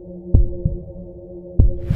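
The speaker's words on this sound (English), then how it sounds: "Heart pounding." Heavy pounding heartbeat effect, two deep lub-dub pairs of thumps over a low steady hum, close and loud with no voices.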